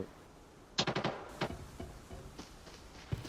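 A quick burst of rapid gunfire in the video game Arena Breakout, then a few scattered single shots, fairly faint and with no one speaking.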